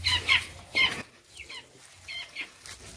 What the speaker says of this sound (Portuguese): os pintinhos estão dentro da galinheira ali